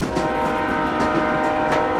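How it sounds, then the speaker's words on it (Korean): A train departure sound effect plays as a loud, continuous rumble of rolling rail cars, with sustained horn-like tones running throughout. "그럼 오늘 퇴근길 두정거장 열차 출발합니다."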